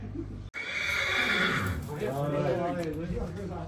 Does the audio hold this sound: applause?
no